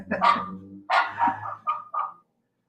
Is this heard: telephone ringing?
no